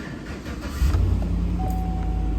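A BMW E71 truck, showing a check engine light for an evap code, cranks and fires up, its engine settling into a steady low idle close by, with no talk.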